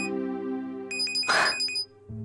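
A mobile phone rings loudly with an incoming call, its steady electronic melody sounding close, briefly broken by a burst of noise before the tone resumes.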